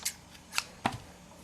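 Scissors snip through fabric thread at a sewing machine in three quick, crisp cuts, fairly faint and well spaced, with no voices.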